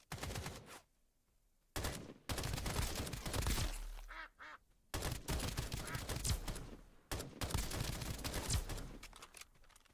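Gunfire in the game Escape from Duckov, with bursts of rapid shots separated by brief silences, some sharp single reports and a short stretch of duck-like quacking between volleys, fairly close and loud.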